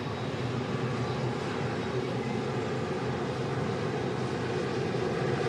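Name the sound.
Emirates Airbus A380 airliner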